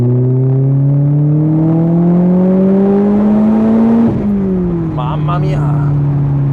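A Lotus Elise 240 Sport Final Edition's engine accelerating from inside the car, a loud steady rising drone climbing through the gears, with a brief dip at a shift before pulling again, a voice talking underneath.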